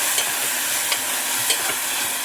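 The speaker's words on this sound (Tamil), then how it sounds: "நல்லா தக்காளி நல்லா வதங்கிடுச்சு" Tomatoes sautéing in a pan give a steady, close broadband sizzle with the occasional faint scrape of a stirring spoon, heard alone without talk.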